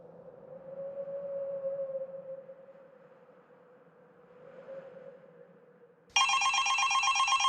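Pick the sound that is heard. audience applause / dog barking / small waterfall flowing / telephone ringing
telephone ringing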